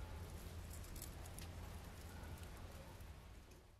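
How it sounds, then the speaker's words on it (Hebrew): Steady rain falling, an even wash of patter with a low rumble underneath that holds at the same level and eases slightly at the end, with no voices. "גשם. המים היורדים מן השמיים. זה גשם."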